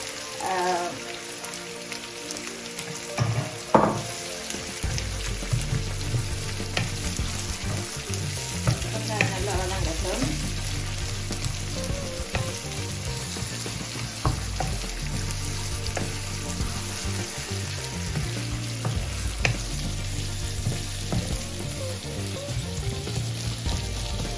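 Mustard seeds and onions fry in hot oil in a pan for prawn curry, a loud continuous crackling sizzle like rain with occasional stirring clatter and seed pops, close and without voices.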